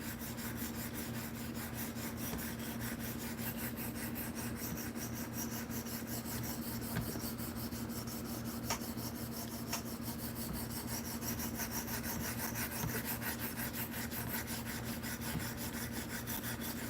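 A folding knife is stroked across a stone on a KME guided sharpener, a faint, steady scraping rub repeating over a low constant hum, no speech.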